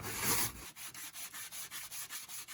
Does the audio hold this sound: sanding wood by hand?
yes